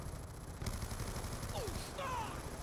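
Gunfire in Call of Duty Black Ops 2 on the Nuketown 2025 map, a quick burst of shots followed by scattered reports and sharp metallic pings, moderately loud within game ambience.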